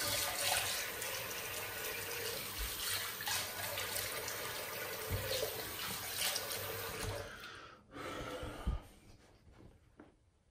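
Tap water runs into a sink at moderate volume while someone rinses a freshly shaved face, a steady splashing flow that cuts off near the end, followed by a few drips and small knocks.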